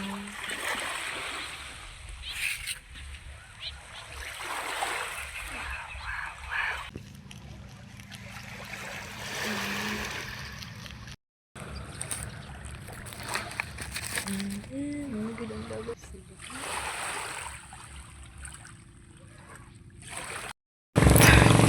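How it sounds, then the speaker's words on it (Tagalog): Clear sea water splashes and trickles around a boat in irregular surges, with people talking over it. "So, dito na tayo ngayon sa dagat."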